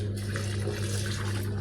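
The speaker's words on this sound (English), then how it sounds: "That is water draining so that you can start spinning." Water drains from a washing machine's pipe during the final rinse before the spin cycle, a steady close rushing gush that stays constant throughout.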